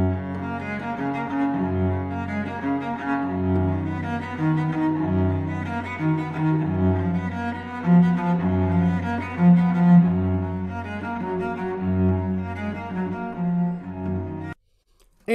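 A cello played in a 17th-century Leipzig temperament, a slow, resonant solo line with sustained bowed notes and rich low harmonics, close and clear, ending abruptly.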